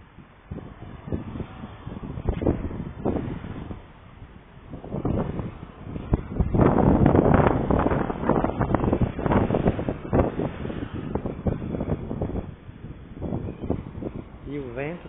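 Gusty wind buffets the microphone in rough, uneven surges at a late-afternoon street spot in a São José, Santa Catarina neighborhood beside the highway, rumbling under someone talking throughout.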